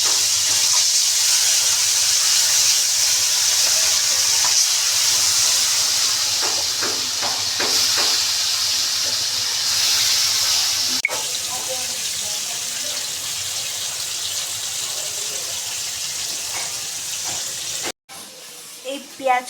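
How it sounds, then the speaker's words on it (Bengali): Marinated fish frying in a pan, heard up close as a loud, steady hissing sizzle that holds for the whole stretch with a few crackles and knocks, then cuts out abruptly near the end. "মাছগুলো দিয়ে দিলাম ভাজার জন্য"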